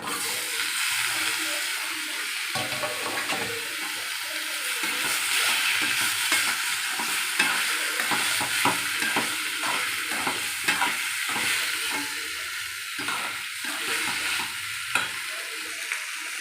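Boiled eggplant being stir-fried with green chillies, curry leaves, mustard seeds and chana dal in a pan, a loud continuous sizzle with busy scraping of the spatula throughout, close and without talk.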